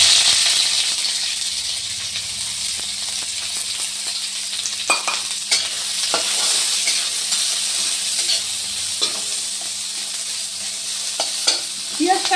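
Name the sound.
onion and garlic frying in mustard oil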